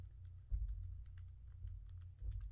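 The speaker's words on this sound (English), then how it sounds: "Now if I type that into my calculator" Quiet, light key taps on a calculator come in a quick, irregular run of clicks over a low steady hum, with no voices.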